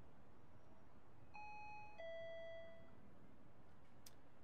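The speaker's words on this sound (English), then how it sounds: "Those old school digital doorbells." Old-school digital doorbell chime in a video game: a few clean electronic tones ring out one after another, the last held longest, fairly faint over a quiet background with no talk.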